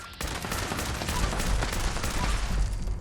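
Rapid automatic gunfire from a combat rifle in the video game Fallout 76, with dense, continuous bursts of shots that sound loud and close.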